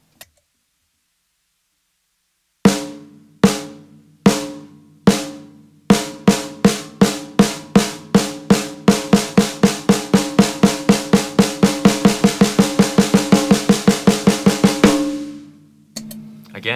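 Drum strokes begin widely spaced and steadily speed up into a fast, even roll, then stop abruptly with a final hit.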